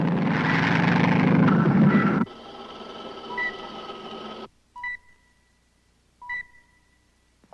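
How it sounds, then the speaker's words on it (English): Light civilian plane flying in, a loud broad engine roar that cuts off into a thinner steady drone, followed by short tonal beeps and bursts against near silence. "There's a light civilian plane coming in at 190 degrees."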